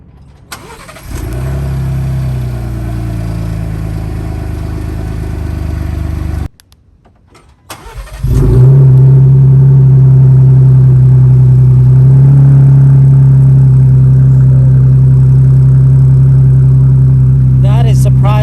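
A Ford Bronco with an AWE 0FG catback exhaust cranks and fires, runs briefly, cuts off, then restarts into a loud, deep, steady idle that holds close and strong to the end, with some talk over it.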